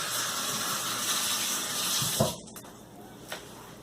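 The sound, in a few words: rinsing hands under running tap water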